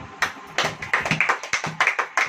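Congregation at a church sermon clapping hands in a quick, uneven rhythm of sharp claps, close and distinct, with short pauses between bursts.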